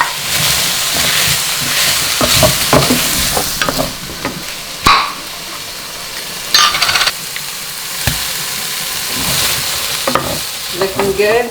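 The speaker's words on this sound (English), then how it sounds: "We've sauteed that and it's getting pretty fragrant" Pork sautéing in a pan with onions, garlic and chilli for Filipino binagoongan, a loud steady sizzle broken by repeated scraping and stirring clatters of a utensil against the pan, with no talking.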